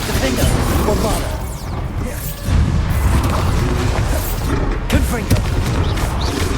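Repeated booming spell blasts from Hogwarts Legacy crash through dense game combat noise, loud and close, with a sharp impact near the middle and another burst later, all layered over constant clatter.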